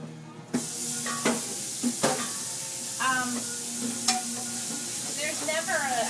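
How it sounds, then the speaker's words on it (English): Eggplant pieces hitting a hot pan and sizzling, a steady close hiss broken by a few sharp clatters and scrapes as the pieces are stirred, with no speech. "just adding this eggplant on my own"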